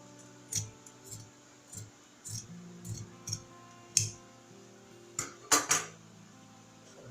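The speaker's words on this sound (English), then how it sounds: "So I'm going to cut it out." Scissors snip through fabric while a sewing pattern piece for an off-shoulder peplum top is cut out, giving a series of close, sharp cutting clicks at an irregular rhythm with no talk.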